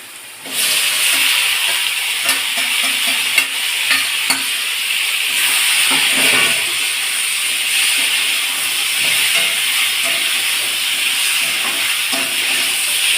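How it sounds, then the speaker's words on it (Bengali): Fried chicken pieces and potatoes drop into a spice mix in a hot pan, setting off a loud, steady sizzle and hiss with occasional stirring clatters throughout. "এর মধ্যে আমি ভেজে রাখা যে মাংসগুলো, আলুগুলো সবই আমি একসাথে দিয়ে দিচ্ছি।"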